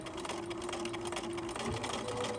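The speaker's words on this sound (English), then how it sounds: "I'm starting at the bottom corner, sewing forward, then back stitching" A sewing machine stitches through felt, running steadily forward and then reversing to back stitch, a continuous close mechanical whir with a faint hum throughout.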